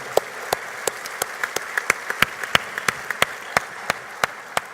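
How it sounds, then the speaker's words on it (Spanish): A few audience members clap in a slow, sparse rhythm, each sharp clap distinct and fairly close, with no talk over them. "pueden aplaudir, claro que sí"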